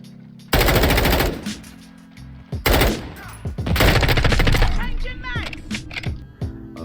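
Automatic gunfire in the Modern Warfare 2 Beta video game, loud sustained bursts of rapid shots separated by short pauses, with someone talking over the game sounds.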